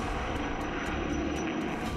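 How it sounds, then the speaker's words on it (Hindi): A US B-2 stealth bomber flies overhead at a welcoming ceremony in Alaska, a loud, continuous, broad engine roar that fills the whole stretch without any talking. "इसके बाद स्वागत के लिए अमेरिका का B-2 स्टील्थ बॉम्बर उड़ा"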